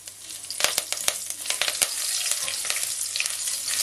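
Ginger bits frying in hot oil for a spicy curry crab, with a steady close sizzle and scattered sharp crackles and pops, no voices.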